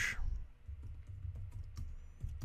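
Typing on a computer keyboard while working in Camtasia Editor 9 software, a quick run of close, fairly faint key clicks over a low background hum, with no talking.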